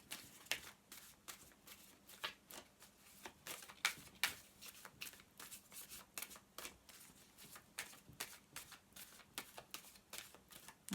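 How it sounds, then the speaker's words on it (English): Tarot cards being shuffled by hand in a quiet room, a steady run of crisp riffling and flicking bursts that continues close and clear with no talking. "I tend to like to focus on the cards as I'm shuffling them rather than just be talking."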